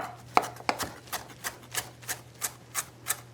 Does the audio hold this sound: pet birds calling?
no